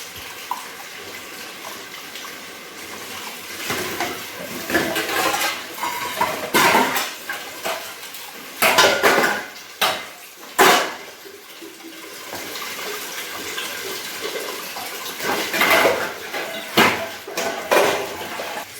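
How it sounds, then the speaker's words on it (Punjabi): Dishes being washed at a sink, running tap water with clattering pots and utensils knocking together in irregular bursts, close up and without talk. "ਬਰਤਨ ਆਪਾਂ ਸਾਰੇ ਕਰ ਚੁੱਕੇ ਆ ਸਾਫ਼"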